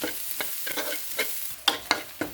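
Fresh chilies fried in oil for a canned-fish chili paste, crackling loudly up close while a utensil stirs in a quick rhythmic series of scrapes, with no one talking.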